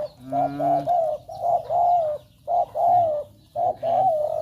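A deep-voiced male dove coos in repeated rolling phrases, close and loud, with brief pauses between each series of calls.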